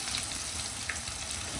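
Chicken and cheese lachha pakoras fry in hot oil over a low flame, giving a steady close sizzle with fine crackling throughout.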